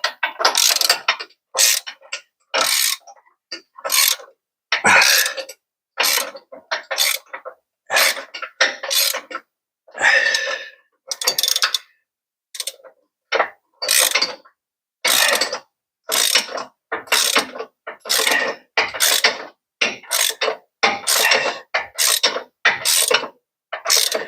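A wrench ratchets on a bolt during a lift kit install on a Ford Econoline van, with repeated short bursts of clicking pawl sounds separated by brief pauses, close and crisp throughout.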